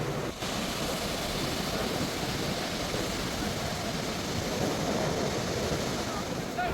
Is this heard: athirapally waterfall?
yes